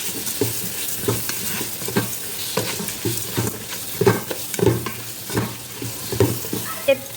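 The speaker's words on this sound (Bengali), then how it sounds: "ডাউলগুলো দিয়ে ভালোভাবে ভেজে নেব" Lentils fried in hot oil for khichuri sizzle steadily while being stirred, with repeated scraping and clattering strokes of the spoon against the pan throughout.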